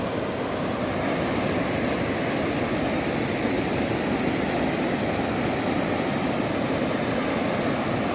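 River water flowing down from the Matheran hills toward Gadeshwar Dam near Panvel rushes loudly and continuously, a dense steady roar with no pauses and no voices.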